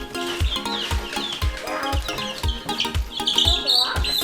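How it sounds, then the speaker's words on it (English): A loose chicken clucks in quick, repeated bursts close by, mixed with chirps from young chicks raised outdoors, a busy farmyard sound with a faint voice in the background. "Uh-oh, chicken on the loose."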